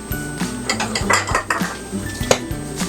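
Dishes clink and clatter up close as a small bowl is taken out, with a quick run of bright ceramic knocks and rattles and no talking.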